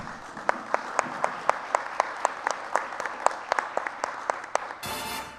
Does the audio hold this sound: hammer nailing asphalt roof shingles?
no